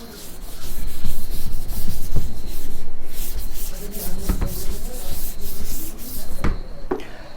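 A board eraser rubs across a classroom blackboard in steady, scratchy back-and-forth strokes, loud and close, with a few sharp knocks near the end and no talk.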